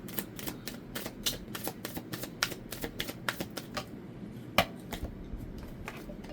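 Tarot cards are being shuffled close up in a quick, uneven run of crisp slaps and riffles, with one sharper snap near the end and no talking.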